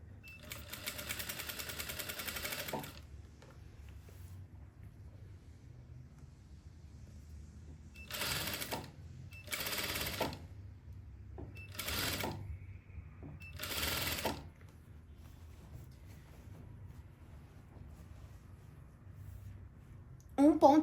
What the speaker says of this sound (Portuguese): E passando a costura bem na bordinha aqui, ó. Da dobra do meu tecido.